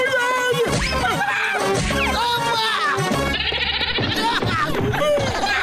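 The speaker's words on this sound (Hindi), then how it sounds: "इस बकरी को यहाँ से भगाओ" A cartoon goat bleating loudly and insistently, with wavering, shaky cries repeated over several seconds against a busy, full soundtrack.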